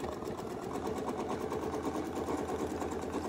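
A sewing machine doing ruler-work quilting, stitching in the ditch along a seam, a steady close mechanical hum with a rapid pulsing needle rhythm running throughout.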